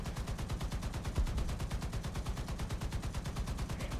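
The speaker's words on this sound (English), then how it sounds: "with the machine gun that you can use to take down" Rapid, steady machine-gun bursts from a T-86 tank's roof-mounted gun in War Thunder, sustained and fairly loud over a low engine rumble, with no talk.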